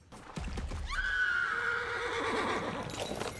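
A horse neighs loudly in a whinny that rises and then trails off across the clip, close and clear, with a few faint hoof clops underneath and no talking.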